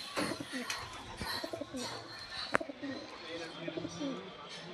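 Pigeons coo in soft, low bursts at a bird dealer's, with scattered chirps, a sharp knock or clatter midway and faint background voices.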